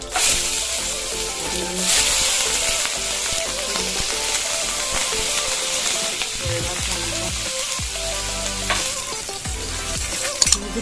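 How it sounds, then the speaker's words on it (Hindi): Mustard seeds and garlic sizzle in hot oil, giving a loud, steady frying hiss with scattered crackles and pops and a few stirring scrapes, close and with no one talking. "हमारा तेल गर्म हो चुका है। अब डालेंगे हम राई करके, उसके बाद हम डालेंगे लहसुन"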